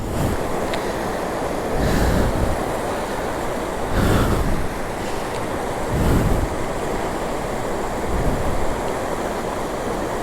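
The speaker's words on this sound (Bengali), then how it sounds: "যেখানে একটা নদী আছে, তো এই হচ্ছে সেই নদীটা।" A river in Ladakh rushes in a steady, loud broadband roar with periodic surges and wind buffeting the microphone, and no voices are heard.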